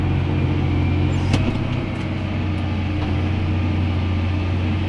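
A New Holland TM190 tractor engine, old-school sounding, running steadily with a deep continuous drone and rumble, close and loud throughout, with faint clicks above the roar.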